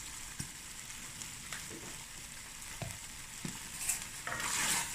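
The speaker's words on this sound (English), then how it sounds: "Give it a stir." Sugar bean stew stirred in a pot on an island stove, with soft, uneven scraping and bubbling simmer sounds running steadily throughout and a slightly louder stir near the end.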